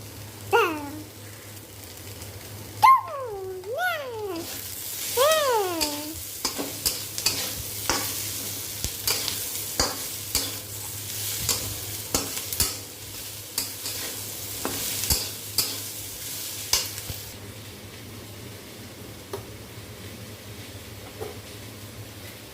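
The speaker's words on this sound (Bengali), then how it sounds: "কন্টিনিউয়াসলি নাড়ছি, তো একটু ভাজা হয়ে যাক" Spices stirred and fried in a pan over high flame while cooking paneer navratan: continuous sizzling under repeated scraping and clattering strokes of a spoon, close and busy throughout.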